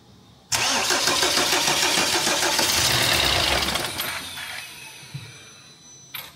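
A car engine cranks and catches abruptly, then runs loud and close with a busy, rattling mid-pitched idle that gradually settles and quiets, followed by a brief blip near the end.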